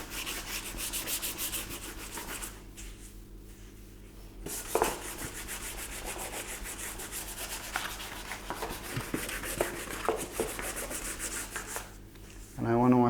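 Primer and filler are block sanded by hand, a continuous close, loud rasping scrub with rhythmic back-and-forth strokes, briefly pausing around the third second before resuming steadily.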